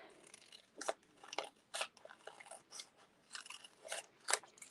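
Black foam dimensionals are trimmed along their edges, giving a quick, faint series of crisp snips and crunches in an irregular rhythm, close up and with no talking.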